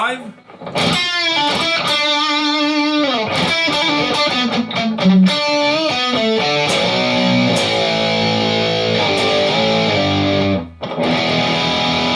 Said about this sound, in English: I do the volume test where I lower the volume on the guitar